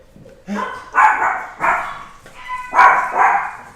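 Dogs at home bark in a quick series of about five loud, close barks with short gaps between them, announcing someone's arrival.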